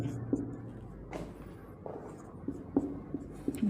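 Pen or chalk scratching out a math equation by hand, a series of short, close scrapes and taps in uneven rhythm, fairly faint, with no speech over it.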